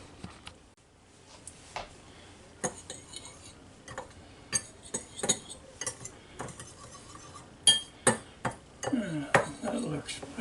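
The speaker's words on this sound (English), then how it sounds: "Now we'll get a fork, see if I can mix it all up." A fork clinks and scrapes in a bowl mixing Italian seasoning for a pork rib marinade, with a series of irregular metallic taps and stirring strokes, quiet and close, with occasional talk.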